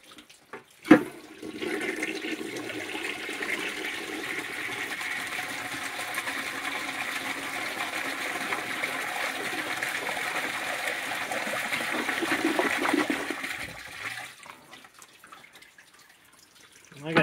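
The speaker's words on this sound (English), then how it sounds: "Go ahead and flush the Cadet once more." A 1959 Standard Cadet toilet flushes with a sudden release, then a steady rushing of water for about twelve seconds that swells slightly before gurgling and tapering off into quiet dripping.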